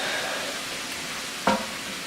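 Garlic stirred into a chili pot, a steady soft sizzle with a brief scrape of the spoon partway through, close and continuous.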